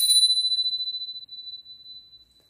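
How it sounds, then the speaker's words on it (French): A small bell is struck once to call on spirits. The ring is bright and clear, and its pure high tone rings on and fades slowly over a couple of seconds with no talking. "Je vais actionner la petite cloche"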